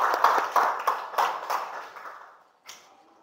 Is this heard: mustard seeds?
no